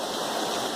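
Heavy rain pouring down in a backyard, a dense, unbroken hiss of falling water at steady, loud level throughout, with no voices.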